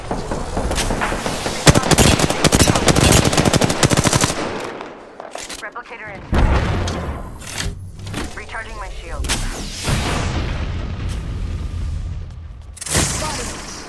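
Gunfire in the shooter Apex Legends, dense and loud automatic bursts with booming impacts, pausing briefly before renewed volleys; a voice calls out under the shooting.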